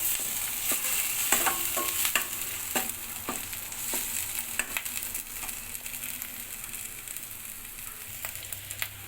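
Coriander and cumin paste, ground wet rather than dry, fries in a pan for a Bengali rohu and catla fish curry, giving a steady close sizzle broken by repeated sharp scraping clicks of a spatula stirring it.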